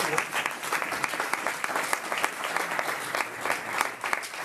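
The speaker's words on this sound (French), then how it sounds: "on peut applaudir nos intervenants" Audience applause at a morning business-creation breakfast talk, a steady wash of many hands clapping close and continuous, with a faint voice briefly under it.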